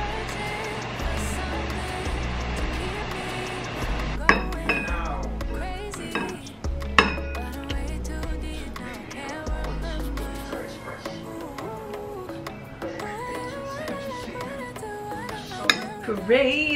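Cutlery clinking and scraping against plates during a home meal of cauliflower gnocchi topped with cheese, with several sharp metallic taps standing out over a steady background murmur.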